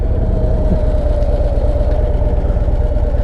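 A 2024 Road Glide motorcycle engine idles steadily and loudly close by, a low rumbling throb with no speech.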